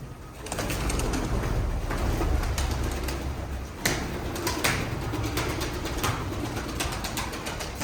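Pigeons in a coop give a steady flurry of bird sounds with soft cooing and occasional wingbeats, continuous and fairly close throughout.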